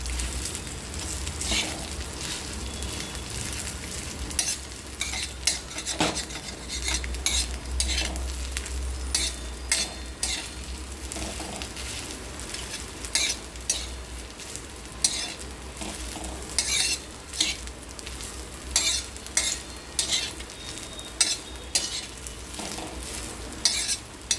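Egg fried rice is stirred in a hot pan with a continuous low sizzle and repeated scraping spatula strokes, steady and close throughout with no talking.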